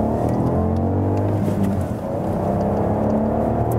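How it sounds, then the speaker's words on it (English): A Ford Focus ST-Line hatchback with a 3-cylinder engine accelerates from 30 to 70, a steady, rising engine drone with a strong low hum and tyre and road noise, heard from inside the car with no talking. "Now we're accelerating from 30 to 70."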